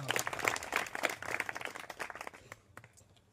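Audience applause for a student at an education centre award ceremony, a dense steady patter of many hands that thins and fades toward the end.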